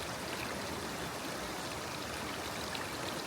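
A shallow stream flows over stones in a nature reserve, giving a steady, dense babble and trickle that fills the whole moment without pause, close and fairly faint, with no voices.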